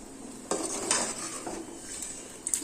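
Spoon scraping and clinking against a pot while stirring black chickpea sundal kuzhambu curry, a few close metallic scrapes with a soft simmer beneath.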